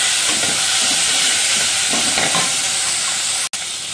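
Two small chopped tomatoes stirred into frying onions in a pan for moong dal tadka, a continuous loud sizzle with scraping stirs and a brief sharp cut-out near the end.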